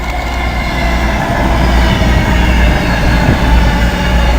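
Class 221 Super Voyager diesel train departing Birmingham International station, a loud steady engine rumble and rolling rail noise close by, continuous throughout.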